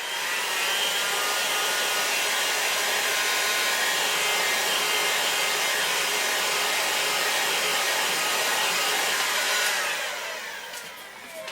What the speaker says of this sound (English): Hot air gun. So let's just do that again.